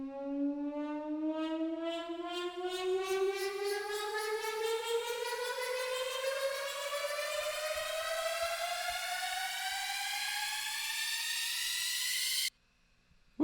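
A synth riser built in Serum climbs steadily in pitch for about twelve seconds as a bright, harmonically rich tone, sustained and loud, then cuts off abruptly at the top.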